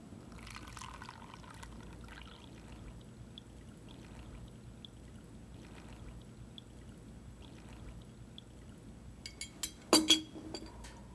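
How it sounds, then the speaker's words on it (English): Liquid carrying dissolved black residue from an early dye experiment is poured through filter paper, a soft steady trickle running low under the room noise, followed near the end by a brief burst of louder clinks and splashes. "We'll pour it through the filter paper."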